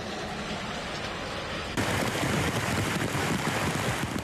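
Steady rain hisses down on flooding streets during a flash flood, growing heavier and louder partway through, with no voices.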